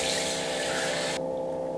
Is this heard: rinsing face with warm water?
yes